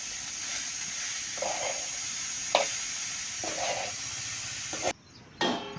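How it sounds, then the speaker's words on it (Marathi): Wild eggplant curry sizzles loudly in a pan while oil is added and stirred, with a continuous close hiss broken by a few scraping strokes, briefly dropping away before the sizzle flares up again. "त्यामध्ये आता पुन्हा तेल टाकू"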